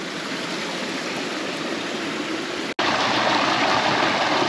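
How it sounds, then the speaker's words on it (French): A small waterfall in the Paúl valley on Santo Antão, Cape Verde, pours in a steady, dense rush of falling water, close and continuous, with a brief cut partway through. "Une petite cascade, encore des préparations pour les plants de taro."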